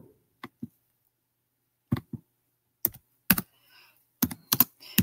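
Calculator keys are pressed in a sparse run of soft, close taps, single and in quick pairs, separated by silence.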